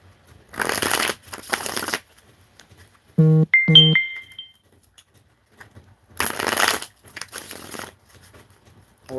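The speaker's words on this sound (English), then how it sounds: "Should I pull some cards on that, Che Ace?" Tarot cards are riffled in two loud bursts of rapid flapping shuffles, separated by a short chime-like double tone and quiet pauses.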